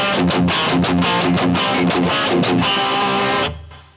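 Distorted electric guitar through a Line 6 Helix amp model, with reverb and compressor, playing a fast, chugging palm-muted riff of repeated notes before ringing out and fading.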